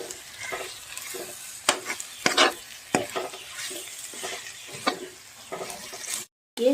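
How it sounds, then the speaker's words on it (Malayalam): Chicken curry masala sautéing in a pan, with a spoon stirring and scraping in uneven bursts over a soft sizzle, close and fairly loud, ending in a brief cut to silence. "ഇതൊന്ന് നന്നായി വഴറ്റുക ഇതൊന്ന് മൂത്ത് വരുന്നിടം വരെ വെയിറ്റ് ചെയ്യുക"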